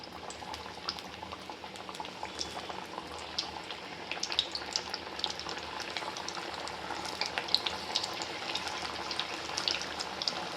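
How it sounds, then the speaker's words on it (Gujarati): Steady, dense crackle and bubbling of bajri (millet) vadas deep-frying in hot oil, continuous and close, with no voices. "તેલ મેં ગરમ કરવા મૂકી દીધું હતું હવે આપણે તળી લઈશું"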